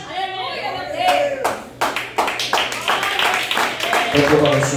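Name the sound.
audience clapping at church sermon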